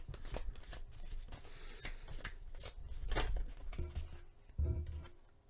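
A tarot deck shuffled and a card drawn, close and clear: papery riffling and slapping cards, a few soft thumps, then a brief flick as a card is pulled.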